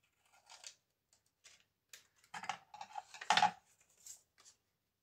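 Scissors snip through card in short irregular cuts, quiet and close, with small clicks between the cuts.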